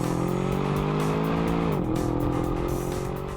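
A deep, powerful Aston Martin DBX luxury SUV engine roars steadily up close, its tone dipping briefly before climbing again as it revs.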